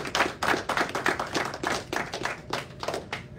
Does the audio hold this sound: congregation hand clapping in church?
yes